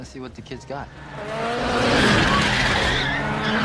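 Street racing cars in The Fast and the Furious, short voice at the start giving way to a rising roar of engines and long skidding tire screech, loud and close.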